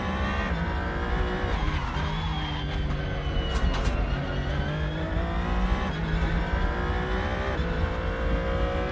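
Formula 1 car in the racing simulator Assetto Corsa on the Nordschleife, its engine a continuous high-pitched whine rising and falling with gear changes, loud and close throughout with faint tire noise.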